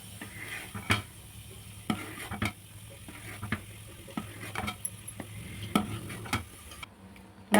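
Butter bubbling in a pot as it cooks down into homemade ghee, a low continuous simmering crackle marked by a string of distinct clicks and spoon taps at irregular intervals, heard close with no voices.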